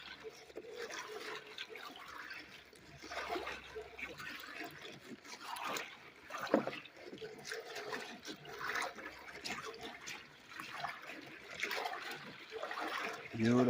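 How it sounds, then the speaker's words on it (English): SD cards are stirred around in a black bucket of liquid, giving a steady, close sloshing and swirling with trickling water, while someone talks over it. "You want to be able to stir these around."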